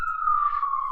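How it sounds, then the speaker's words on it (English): A police siren wails steadily outside, its tone sliding slowly downward across the whole second, loud and clear with no talk over it. "I bet you in all my videos you hear sirens a lot."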